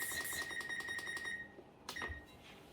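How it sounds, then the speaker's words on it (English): A kitchen timer goes off after a batch of double chocolate cookies bakes in the oven, sounding a rapid train of repeated electronic beeps for over a second, then a pause and another short burst of beeping. "Once the timers are off and they're all done"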